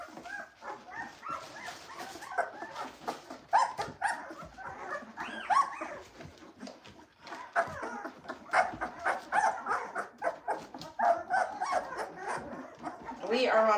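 A litter of Cane Corso puppies whimper, yip and squeal in quick, overlapping bursts, close by, with soft human talk mixed in.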